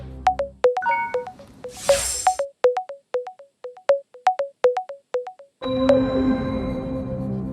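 Outgoing telephone call on a game show set, a series of evenly spaced electronic beeping tones forming a ringing pattern, brief and distinct, then ending as a louder open line or studio sound takes over.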